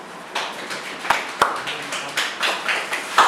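Students in a map-reading class clap for a correct answer, a short burst of scattered, uneven hand claps with a few sharper slaps standing out, fairly close and moderately loud.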